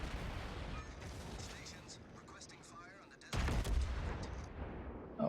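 A warship in the naval game World of Warships fires a gun salvo. A dense, rumbling battle roar plays throughout, then a heavy booming burst hits loudly partway through and is followed by another thud at the end.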